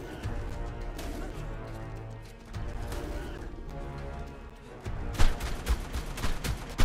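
Gunfire in the survival game Ark with a Jurassic Park setting, with scattered sharp shots over a droning game background, then a denser, louder cluster of rapid shots in the final seconds.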